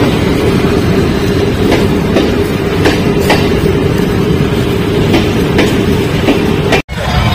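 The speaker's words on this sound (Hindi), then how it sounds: "और ये है दोस्तों दुनिया की सबसे शांत रेलगाड़ी।" A small funfair ride train runs steadily at a fairground, with a continuous loud rumble and faint rhythmic clicks throughout, no talk.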